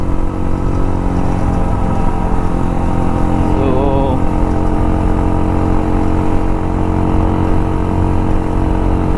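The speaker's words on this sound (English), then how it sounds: "the engine which has gone in is a Karizma engine on this, so that's why it can accelerate very well" A modified Hero Impulse motorcycle fitted with a Karizma engine runs with a steady, loud mid-pitched drone, heard close while riding, with wind noise and a brief spoken word.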